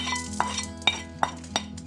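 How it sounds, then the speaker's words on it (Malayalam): Rice is roasted over medium heat in a pan and stirred with a spoon, which gives four or five sharp clinks and scrapes against the metal over a faint steady hum. "ഇനി വീണ്ടും നേരത്തെ വറുത്ത പോലെ വറുത്ത് നോക്കാം."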